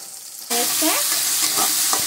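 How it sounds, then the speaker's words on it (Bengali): Paneer frying for a Bengali paneer kaliya sizzles sharply in a pan. The sizzle bursts in after a brief quiet moment, then stays loud and close, broken by scraping stir strokes. "এটা আমি এখন 2 মিনিট রেখে দেবো ভাজাটা হওয়ার জন্য"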